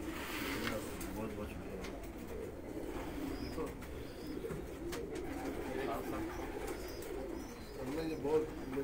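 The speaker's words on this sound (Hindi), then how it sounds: "वो आउट क्लास कबूतर है" Pigeons kept by a fancier coo softly and repeatedly amid a busy outdoor murmur, with people talking in the background and occasional chirps.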